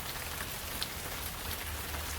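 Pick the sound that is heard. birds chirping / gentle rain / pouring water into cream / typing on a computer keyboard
gentle rain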